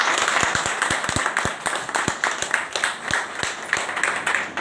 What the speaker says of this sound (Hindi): आप लोगों को लगा कि इन्होंने जोरदार तालियां बजाई आप लोगों के लिए?